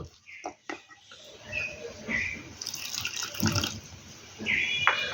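Water poured from a bowl into flour batter for poa pitha (oil-fried rice pitha), a splashing, trickling pour in short bursts at close range, with faint birdsong in the background and no talking.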